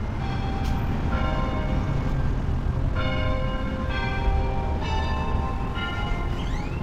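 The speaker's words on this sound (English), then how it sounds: "I don't know if that bell's on time, but it's 12:44." A church bell in New Braunfels rings out in repeated, evenly spaced strokes, each resonant tone lingering over a steady hum of distant traffic.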